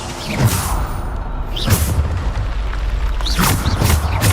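Bombarda spell explosions go off in combat in the video game Hogwarts Legacy: several booming blasts with whooshes, loud and close over steady game background noise.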